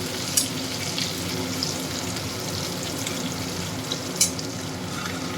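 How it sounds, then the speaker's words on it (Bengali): Cumin seeds sizzle steadily in hot oil for a Bengali banana-flower and prawn dish, a close, continuous frying hiss with a couple of brief sharp spatters and no talking. "এই তেলের মধ্যেই সাদা জিরে ফোড়ন দিয়ে দিলাম"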